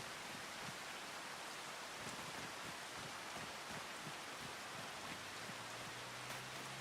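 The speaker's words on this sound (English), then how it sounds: "Is it starting to rain?" Rain falling in the Farming Simulator 25 video game, set in Western Australia: a steady, even hiss of rainfall with faint scattered drops, continuous and soft.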